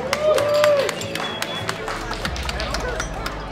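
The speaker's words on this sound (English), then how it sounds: "Let's have a round of applause." Applause at a car dealership's five-year anniversary event, scattered claps from a crowd in a room with a little chatter underneath, steady over several seconds.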